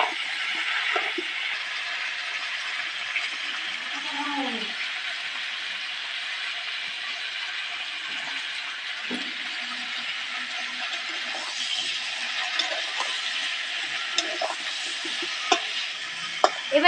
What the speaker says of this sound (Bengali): নাড়ি চাড়িয়ে নেবো এবার